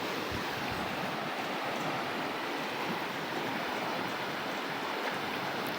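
A flooded river rushes past in a constant, dense roar of turbulent water, loud and unbroken and close at hand, with some wind buffeting and no voices standing out.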